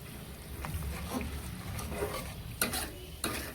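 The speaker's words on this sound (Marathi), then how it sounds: "आणि असं सारखं फिरवत राहायचं" Milk cream being stirred in a pan over low heat as it renders into homemade ghee, a soft continuous sizzle and bubbling with a few louder scrapes and taps of a spoon near the end.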